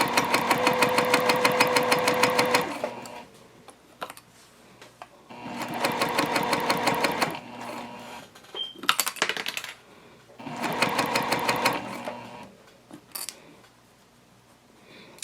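A sewing machine stitches a zipper onto a fabric tote bag in three loud bursts of rapid mechanical whirring, with quiet gaps between them filled by soft handling clicks and rustles.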